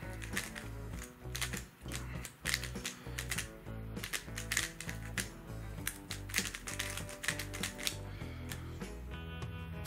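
A YongJun MGC magnetic 3x3 speed cube is turned rapidly by hand, producing quick bursts of light plastic clicks and clattering snaps in an irregular rhythm, close and fairly quiet, with no talking.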